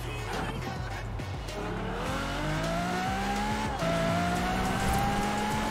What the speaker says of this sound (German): Wir machen einen Allrad-Burnout.